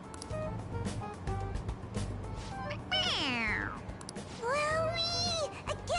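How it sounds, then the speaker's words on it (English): Toy cat from the Persona 5 Royal video game meowing when pressed on the head, two clear sliding meows in a row over game background music, with voices talking in the scene. "It meows when you press on its head."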